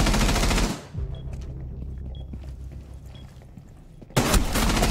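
Dense bursts of automatic gunfire from a ranked online shooter game roar at the start, drop to a quieter rumble of distant shots and booms, then surge back loud near the end.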